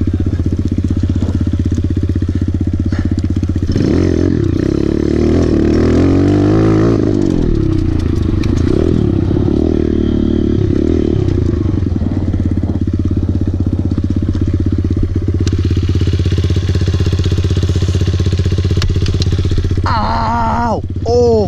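A Kawasaki KLX 140L dirt bike is ridden close by, its engine puttering and revving up and down in repeated surges, with a higher whine near the end.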